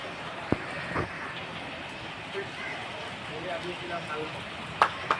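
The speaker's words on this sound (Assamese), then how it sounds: "চেন্নাইত বৰষুণ পৰি আছে" Heavy rain falls in Chennai as a steady, dense wash of noise, broken by a few sharp knocks near the start and end.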